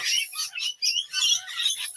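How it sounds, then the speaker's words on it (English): High, harsh bird squawks and chatter in quick bursts, faint and fairly close, with no talking. "we've got some parrots flying above us in the studio"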